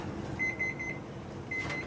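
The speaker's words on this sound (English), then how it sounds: "The oven timer goes off," A kitchen oven timer beeps in a quick run of four thin, high beeps and then one more after a pause, faint over a low steady room hum.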